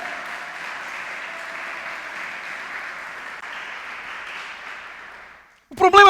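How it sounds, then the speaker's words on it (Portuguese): A church congregation applauds during a sermon with a sustained, even roar of clapping that fades out near the end. A voice follows briefly after the fade. "Dê uma salva de palmas para Ele."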